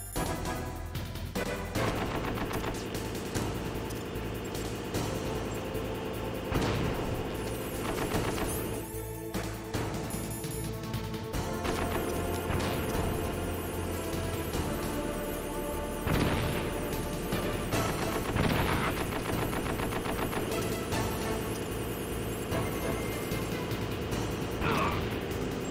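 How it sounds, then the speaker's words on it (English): Grenades go off in Metal Gear Solid, a loud, chaotic run of blasts, crashes and gunfire-like bangs layered over busy game sound throughout. "Just grenades everywhere."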